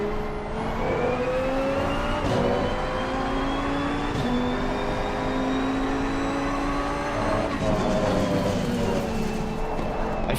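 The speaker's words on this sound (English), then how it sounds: "The shift sound seems to be the one of the Ferrari." Race car engine in a GT2 racing video game, with a Ferrari-like gearshift, revving steadily with stepped pitch changes as gears shift, loud and close throughout with no talk.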